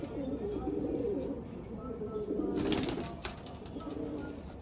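A tournament racing pigeon being held gives soft, low cooing murmurs close by, with someone talking over it and some brief handling rustle.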